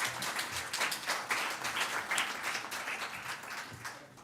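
Audience applause at a democracy conference session, a steady wash of many hands clapping, moderately distant and fairly soft throughout.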